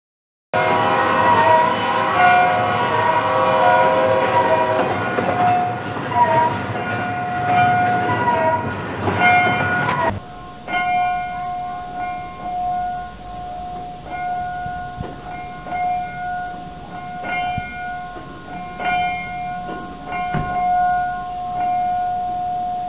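A locomotive bell being rung by hand in the cab of a preserved engine at the Railswest Railroad Museum in Council Bluffs, Iowa, clanging in a steady repeated ring with bright ringing overtones, loud and close, then softer and echoing.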